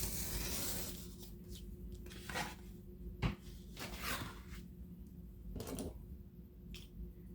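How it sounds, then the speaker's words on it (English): A sharp finger blade craft knife slices excess laminate away from foam board in short scraping, tearing strokes, several separate cuts with quiet pauses between them, heard up close with no talking. "I'm going to cut away the excess with my sharp finger blade"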